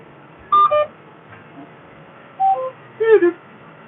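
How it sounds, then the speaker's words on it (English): A few short electronic beeps from a tractor's fertiliser spreader control in separate bursts, some as quick double tones, over a steady low engine hum. "Lots of beeping, I'm afraid"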